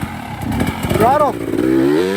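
A 2025 Beta 300 RR Race Edition two-stroke dirt bike with an SC3 smart carb revs on the throttle nearby. The engine rises in a quick, rough climb and then settles, with someone talking over it.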